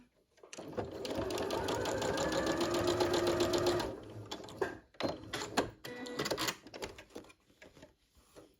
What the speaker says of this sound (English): Just place it over the next corner